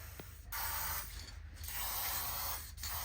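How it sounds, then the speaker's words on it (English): Two hissing bursts of aerosol spray onto bolts, each about a second long, close by with a faint mechanical hum underneath. "spray some of that on the bolts to prevent them from rusting"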